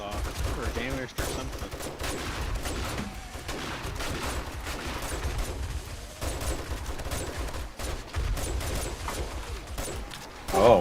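Continuous gunfire from a raised position at a swarming zombie horde in 7 Days to Die, dense rapid shots blending into a steady roar, with someone talking over it.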